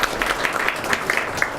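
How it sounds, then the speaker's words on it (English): Audience applause for sponsors, including a school district, at a Student of the Month breakfast, a steady dense crowd of clapping hands filling the room throughout without speech. "A round of applause for them."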